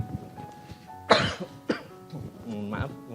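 A man giving a sermon lets out a sharp cough, followed by a second smaller cough and some throat clearing, close to the microphone, with speech-like sounds around it.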